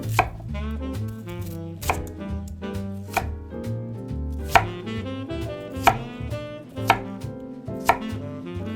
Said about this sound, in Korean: 감자도 한 개를 비슷한 크기로 깍듯 썰어주면 되는데요